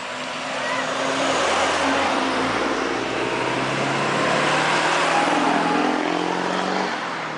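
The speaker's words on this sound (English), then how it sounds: "there's a lot of trucks working today, even though it's Memorial Day" Trucks and other motor vehicles pass on a Virginia road, a loud, continuous engine roar and tyre rumble that swells and shifts over several seconds.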